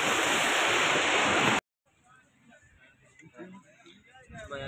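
Sea waves breaking on a beach in Goa along the Arabian Sea, a loud continuous wash of surf cut off abruptly, followed by quieter open-air ambience with people talking.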